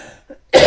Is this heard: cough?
yes